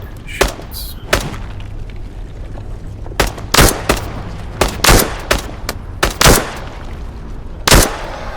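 Enemy gunfire in the video game Into The Radius 2 rings out as a string of sharp, loud shots, some in quick bursts and others spaced apart, over a low ambient rumble.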